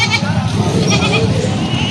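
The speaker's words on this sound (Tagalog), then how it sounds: "4 na kambing." Several goats bleat repeatedly at a crowded livestock market in Padre Garcia, Batangas, loud and close, with people talking and a busy crowd murmuring underneath.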